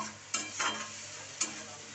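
Masala spice paste is stirred in a frying pan: two or three brief scraping strokes over a low, steady sizzle, close but fairly soft, with no speech.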